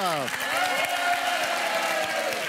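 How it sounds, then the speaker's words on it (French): Television studio audience applause fills the clip, steady clapping from a crowd with a French-speaking voice talking over it at the start. "on vous applaudit"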